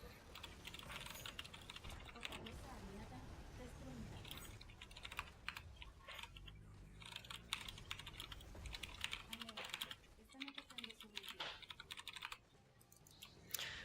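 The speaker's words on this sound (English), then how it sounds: "now that we're done typing" Keys clatter in rapid, uneven bursts on a computer keyboard during a Heroes of the Storm Hero League match, with game sounds and faint voices mixed underneath for the whole stretch.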